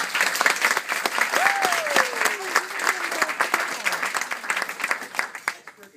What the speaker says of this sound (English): let's give a round of applause for Ethan Kennedy.